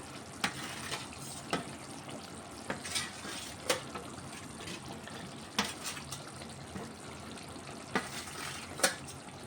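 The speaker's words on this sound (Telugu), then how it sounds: "ఇప్పుడైతే ఇప్పుడు ఫ్రై చేసుకున్న ఎగ్స్ అయితే వేసుకుంటున్నాను నేను" Fried eggs are dropped into a simmering egg curry, making a series of sharp, separate plops and spoon clinks over a low, steady bubbling, with no voices.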